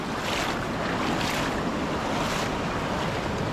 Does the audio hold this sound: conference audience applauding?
no